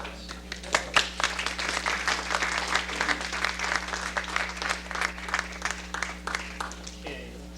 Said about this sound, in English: The entire group should be applauded